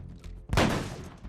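A single sharp gunshot in a film scene cracks out, followed by a brief rumbling echo that fades.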